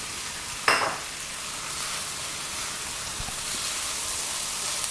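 Cooked potatoes and cauliflower sizzle in hot oil while a spoon scrapes and stirs through them, with one sharp clatter early on and a steady frying hiss throughout.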